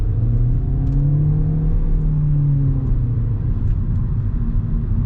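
A 2023 Hyundai Elantra accelerating, its engine note rising in a steady continuous drone that stays loud and close throughout, with no talk over it.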